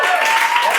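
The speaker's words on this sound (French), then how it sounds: "je vous demande de faire un tonnerre d'applaudissements pour" A short, dense burst of audience applause with a few crowd voices mixed in greets a performer at a live show, loud and close, lasting under a second.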